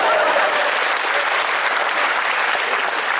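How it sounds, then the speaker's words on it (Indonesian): Audience at a stand-up comedy show breaks into sustained, dense applause, steady and loud for the whole stretch with no voices standing out. "Tepuk tangan buat saya."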